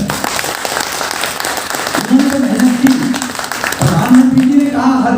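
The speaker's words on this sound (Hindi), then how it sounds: "एक बार इनके लिए जोरदार ताली बजाएं।" Scattered clapping from an audience at a bank awareness event rises partway through and comes in two short bursts, mixed with a voice speaking over a loudspeaker.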